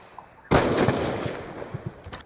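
A loud sudden burst of gunfire in Call of Duty Black Ops 2 erupts after a quiet moment, then trails into a sustained rattle with a few sharper shots near the end.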